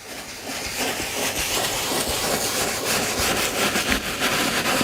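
A leather brush scrubs leather in small circles, producing a continuous rough rustling scrape with a faint rhythmic swish, close up and alone.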